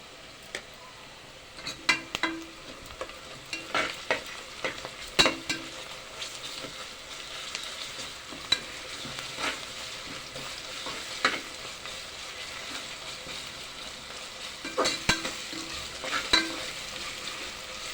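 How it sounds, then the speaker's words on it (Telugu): Ginger garlic paste frying in a hot pan, with a continuous sizzle and repeated stirring scrapes and light clinks scattered unevenly through the whole stretch. "ఇప్పుడు అల్లం వెల్లుల్లి పేస్ట్ వేసుకుందాం"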